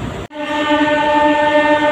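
A local train on the Digha to Howrah line, running steadily with a sustained tonal whine and rumble after a brief dropout near the start, close and fairly loud, with no talking.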